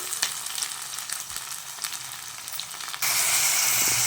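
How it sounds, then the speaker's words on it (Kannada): Tomato, mint and coriander fry in oil for mutton sambar, a loud, dense sizzle with light stirring scrapes that suddenly swells into an even fiercer hiss near the end. "ಇವಾಗಲೇ ಎಲ್ಲ ಫ್ರೈ ಆಗಲಿ ಚೆನ್ನಾಗಿ ಫ್ರೈ ಆಗಲಿ"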